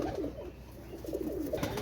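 Teddy pigeons kept for sale coo in low, rolling, throaty bursts, close by and moderately loud, over a brief stretch with soft background noise.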